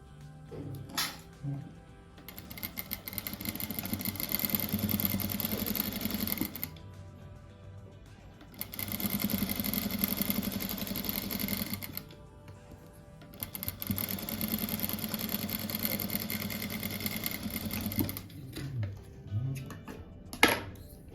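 A sewing machine stitches fabric for a rug in three loud sustained runs, each separated by short pauses, with faint handling noises in between.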